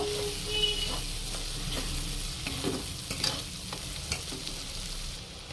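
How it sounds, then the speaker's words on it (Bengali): A spoon stirs ground spices together with paneer in a hot pan, scraping strokes over a soft, steady sizzle, with a few louder scrapes and taps standing out near and alone. "ভালো করে সব মশলা একসাথে মিশিয়ে নেব"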